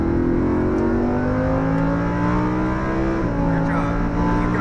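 A Lamborghini accelerates hard on a race track at Homestead Motor Speedway in Miami, its engine rising steadily in pitch through the gears with a brief shift dip, loud and close throughout while an instructor talks over it.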